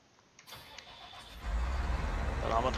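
A tractor engine in Farming Simulator 19 cranks and catches, then settles into a loud, steady low rumble that grows stronger and holds to the end, with a voice talking quietly beneath it.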